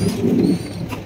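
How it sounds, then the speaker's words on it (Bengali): A pair of almond-coloured Jacobin pigeons coos softly nearby in a brief low burble, with faint background noise and no voices. "এখানে রয়েছে এক জোড়া জ্যাকোবিন কবুতর"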